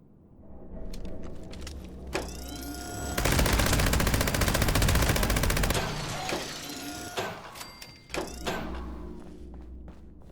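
Rapid automatic gunfire from a weapon in the video game Fallout 76, a loud continuous burst of shots mid-clip, with scattered clanks and thuds before and after.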